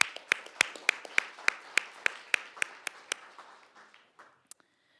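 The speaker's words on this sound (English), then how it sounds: "let's give him a round of applause" Applause for a police sergeant retiring after 20 years of service, at a Flagstaff city council meeting: a small group claps in a steady rhythm that thins and fades out over about five seconds.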